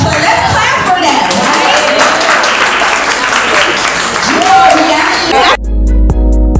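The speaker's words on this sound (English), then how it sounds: "let's clap for that" A crowd applauds steadily at an event, dense clapping filling the room for several seconds before cutting off abruptly near the end.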